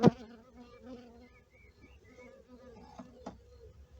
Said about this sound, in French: C'est vraiment une ruche qui vivote.